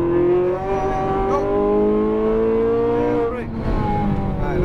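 A Ferrari 458 Italia race car accelerating hard around a track, its loud engine climbing steadily in pitch with a brief dip at a shift before revving up again, close and continuous.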